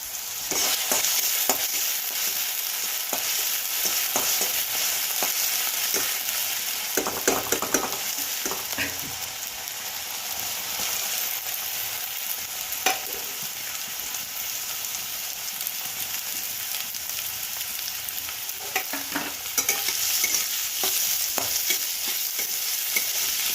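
Diced potatoes and chopped onion sizzling steadily in hot oil, a continuous bright frying hiss with occasional clinks and stirs of a utensil in the pan, close and without talk.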